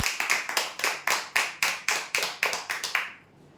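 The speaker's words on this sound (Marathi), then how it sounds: "जोरदार टाळ्या होण्यासाठी" Loud applause breaks out for a prize draw winner. It comes as a burst of rhythmic clapping with about a dozen strong pulses over three seconds, then cuts off into quiet.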